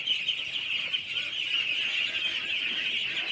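Young ducks on a duck farm give a dense, continuous chorus of nasal honking calls, steady and fairly close throughout with no pauses.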